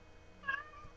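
A cat gives one short, faint meow at a distance in a quiet room, with no one talking.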